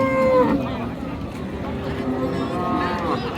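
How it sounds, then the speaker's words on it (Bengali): Cattle moo at a busy livestock market in Dinajpur, with one drawn-out low call near the start, while people talk and a crowd murmurs throughout. "এখনো গরু ঢুকতেই আছে হাটে"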